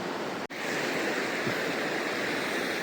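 Steady broadband rush of river water flowing on Mount Kenya, continuous and fairly close, with one brief dropout near the start and no talk over it.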